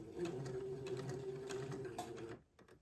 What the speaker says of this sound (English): we're going to sew the first part of the front seam along the side of the sleeve